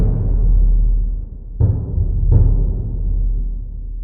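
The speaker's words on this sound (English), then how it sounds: "I found a bass drum that is exactly what I've been looking for." Sampled subby bass drum from a Kontakt library: three deep, booming hits, each with a soft attack and a long decaying low rumble, loud and alone.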